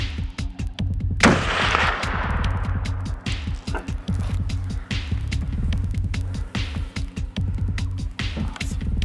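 A single sharp rifle shot is fired at a buck deer from a hunting stand in Texas. It is one loud crack early on, over a steady, throbbing low rumble that continues throughout.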